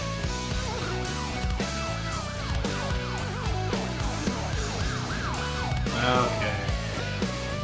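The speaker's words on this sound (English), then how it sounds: "Got the police sirens in the background there." Police sirens wail repeatedly within a dense rock mix of drums and guitars in a song, the rising-and-falling tones layered under the music throughout, with a brief spoken word over it.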